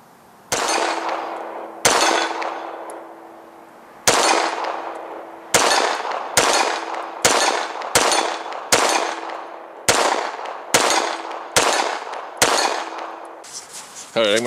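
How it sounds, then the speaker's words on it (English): A 500 S&W Magnum revolver fires a string of about thirteen loud, sharp shots at a 25-yard target, spaced roughly a second apart, each followed by a ringing metallic clang and decaying echo, ending in brief rustling. "Okay, now we're going to shoot at an honest to goodness 25 yards and see what happens here."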